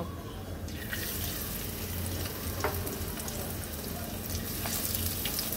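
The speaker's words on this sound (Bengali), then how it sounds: "এখন আমি মাছগুলো সুন্দর করে ভেজে নেব।" Tengra fish frying in hot oil in a wok, with a dense, continuous sizzle and crackle that holds steady throughout, and a few sharper pops and spatters along the way.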